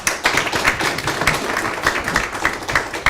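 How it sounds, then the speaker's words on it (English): Applause from a small forum audience for a panel, individual claps close and distinct, a brisk uneven patter of a modest group of hands that carries on steadily throughout. "Can we have another round of applause for our panelists"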